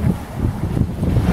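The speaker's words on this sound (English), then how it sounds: "It is kind of windy." Wind gusts roar steadily into the microphone outdoors near a coastal lighthouse, a dense low rumble buffeting throughout with no talking.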